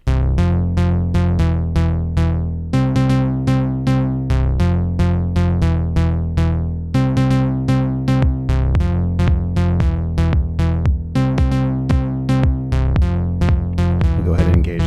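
An Elektron Analog Four MKII plays a clean, repeating synth pattern with steady bass notes and bright plucked stabs, driven by a punchy Rytm MKII drum beat, loud and continuous with no talking.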